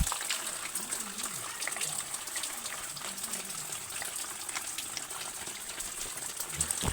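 Water gushes steadily from a pipe in a Nepali village stream setting, a constant rushing flow close by, with faint voices underneath.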